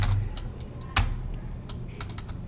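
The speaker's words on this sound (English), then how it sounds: "When I press numbers on my keyboard, it changes the camera." Number keys on a computer keyboard are tapped in quick, uneven clicks at close range, with one sharper, louder keystroke partway through and a scattered flurry of lighter taps toward the end, no talking.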